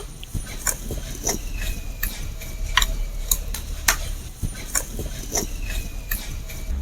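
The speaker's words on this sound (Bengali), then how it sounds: "এর মধ্যে মশলাটাকে এবার মাখিয়ে নেবো" Chilli pickle spices with ground raw mango mixed with oil using a spoon, repeated light metallic taps and scrapes at an irregular rhythm, close, over a constant low background hum.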